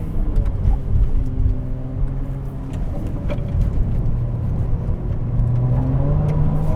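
Ferrari 296 GTB hybrid in qualifying mode accelerating hard through second, third and fourth gears, a steady loud engine drone with rising pitch sweeps and brief shift dips, heard from inside the car.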